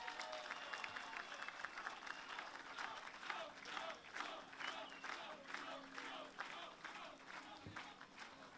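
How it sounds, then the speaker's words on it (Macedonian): Sustained applause from an audience at a GROM party rally in Gostivar, steady clapping across the whole stretch with crowd noise and some voices underneath. "Да ги поздравиме со еден громогласен аплауз."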